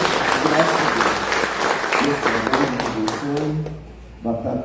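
Applause from a church congregation fills the hall, a dense wash of clapping mixed with voices and murmured talk, tapering off toward the end before a brief swell returns.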